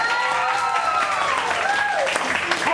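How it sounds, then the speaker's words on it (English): A classroom audience claps at a grade 10 debate awards announcement, dense sustained applause mixed with crowd voices and a few whoops. "Let's give them a round of applause."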